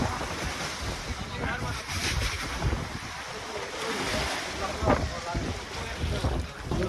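Water sloshes and washes around a boat running aground between Lombok and Gili Trawangan, with steady rumble and wind buffeting the microphone; faint voices murmur in the background.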